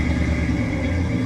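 A 1992 BMW 325ic engine running just after being fired up, a steady close mid-pitched idle rumble with no voices.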